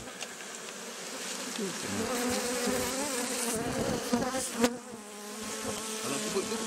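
Many honeybees at a hive in Togo hum and buzz in a dense, swelling drone, with individual bees passing close now and then.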